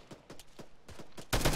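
Rapid bursts of gunfire ring out in a military simulation game during an RPG attack from up a hill, with several sharp reports and a louder blast at the end, heard without talk.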